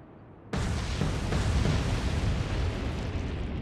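A torpedo explosion striking a destroyer in the naval combat game Atlantic Fleet: a sudden loud, heavy blast that erupts after a quiet moment and rolls on as a sustained, dense rumble with no talk over it.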